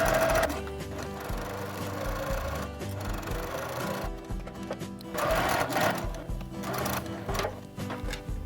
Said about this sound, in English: Remembering to back stitch at the beginning and end of either side of the gap that we're going to be leaving open.